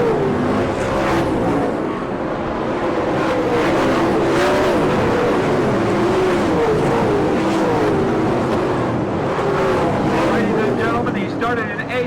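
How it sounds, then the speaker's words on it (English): Open 410 non-wing sprint cars racing on a dirt track on the last lap of a feature, a loud continuous roar of engines rising and falling as cars pass, with an announcer talking over it. "This time by, Dave has the white flag out. 1 more lap to go for Brad Furr."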